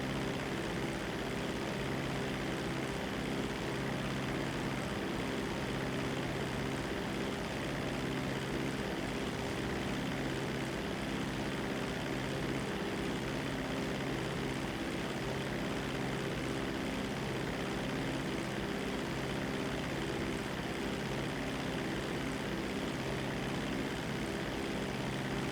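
A seaplane's propeller engine drones steadily in a video game flight over the ocean, a loud, continuous, unchanging hum with no talk.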